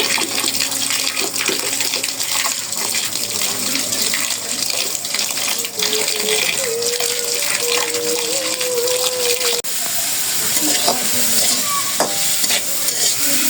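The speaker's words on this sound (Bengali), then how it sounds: "নুডলসটা দিয়ে নিচ্ছি" Noodles and vegetables hiss and sizzle in a frying pan as they are stirred, a steady, close frying crackle with scraping stir sounds and faint talk in the background.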